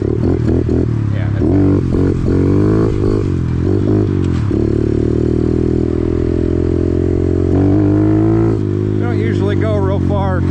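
Kawasaki KLX110 pit bike engine running loud and close while riding near a freeway crossing, its revs rising and falling in uneven surges, with a rider talking over it.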